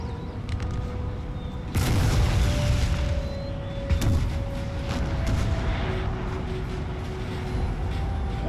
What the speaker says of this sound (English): Not very accurate though, those cannons.